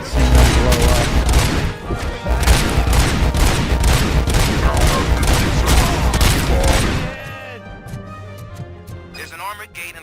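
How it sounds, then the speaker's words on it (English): Rapid, rhythmic bursts of gunfire and explosions in the video game RoboCop: Rogue City. Loud and close for about seven seconds, then fading to quieter rumbles, with a voice speaking over the action. "it is satisfying shooting these guys and seeing them blow up"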